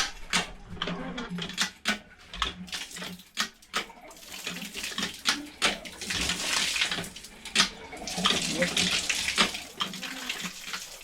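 Strong running water gushes and splashes loudly and continuously, with clattering knocks and bursts of turbulence throughout.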